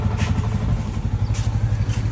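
A motorcycle engine running close by after an ignition coil swap, with a steady throbbing idle and a light mechanical clatter throughout.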